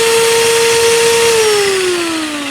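A $134 magnetic drill runs steadily while line boring on a steel plate, giving a loud, continuous whine whose pitch sags slightly as the drill shifts, with no talk over it.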